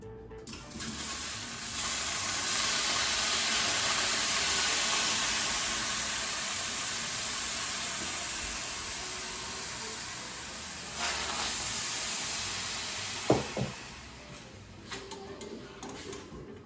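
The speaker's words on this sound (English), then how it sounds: "What we're doing right now is just heating up these berries." Berries heating and thawing in a pan for a vegan berry compote, a steady close sizzle and hiss that swells and fades, with a few sharp clinks near the end.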